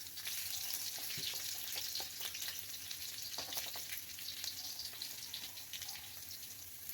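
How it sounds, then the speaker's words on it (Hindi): Garlic and green chilli fry steadily in hot oil, giving a continuous, close hiss and crackle with occasional soft stirring clicks, and no voices. "सबसे पहले मैं इसमें गार्लिक डाल दूँगी, इसे हल्का सा ब्राउन होने तक हम इसे थोड़ा सा फ्राई करेंगे"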